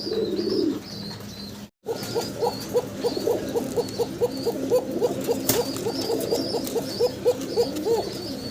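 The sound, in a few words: male pigeon cooing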